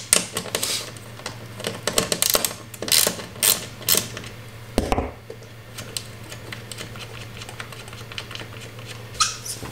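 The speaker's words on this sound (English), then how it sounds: "We unscrew this one and the two bolts on the inside." Tools working on the bolts that hold a Tesla Model 3 tail light, giving a string of close mechanical clicks, squeaks and ratcheting taps in short irregular bursts with a steady low hum underneath.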